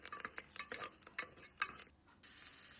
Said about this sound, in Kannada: ಈರುಳ್ಳಿ, ಕರ್ಬೇವಿನ ಸೊಪ್ಪು, ಮೆಣಸಿನ್ಕಾಯಿ ಎಲ್ಲ. ಸೊ ನೋಡಿ, ಎಲ್ಲ ಫ್ರೈ ಆಗಿದೆ ಚೆನ್ನಾಗಿ.